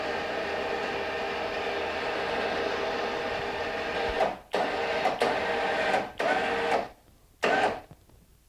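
Electric winch on a Can-Am Outlander ATV spooling in a new synthetic winch line, a steady close motor whine broken by several brief stops and restarts near the end, no talking.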